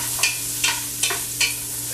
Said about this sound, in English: I'm going to stir that around for a little bit, just wait for some color to come on the onions as well as the garlic